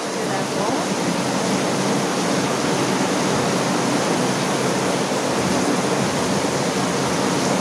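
Steady rain pours down on a rainy day, a loud, unbroken wash of hissing water that fills the whole scene with no breaks or distinct drops.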